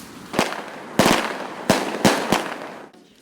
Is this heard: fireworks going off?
yes